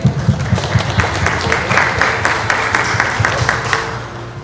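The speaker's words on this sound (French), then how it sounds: "Applaudissez s'il vous plaît." Steady applause from a wedding crowd in Brazil, dense and continuous, with some low voices and music underneath, gradually easing toward the end.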